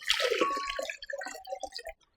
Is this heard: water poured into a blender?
yes